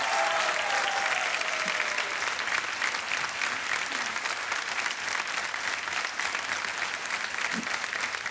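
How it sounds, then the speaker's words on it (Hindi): Studio audience on the KBC quiz show breaking into sustained, even applause after a contestant wins a prize, a loud continuous crowd clapping with a faint tonal cue at the start. "तालियां और शोर मचना चाहिए उनके लिए."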